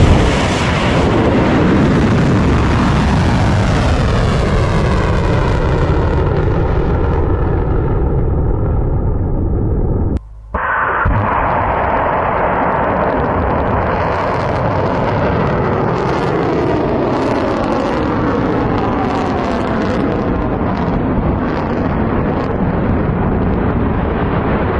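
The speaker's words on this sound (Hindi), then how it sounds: "ईरान ने जो मिसाइलें दागी हैं, जो कामयाबी से सातों के सातों देशों पर हिट हुई है, उसका वीडियो भी जारी किया है ईरान ने" Loud, continuous roar and rumble of Iranian missile strikes exploding, with a descending whoosh in the first half, a brief cut near the middle, then sustained blasts and rumbling to the end.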